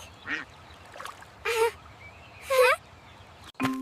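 A cartoon duck in a children's counting song quacks three times, each quack clear and spaced about a second apart, over a soft background bed.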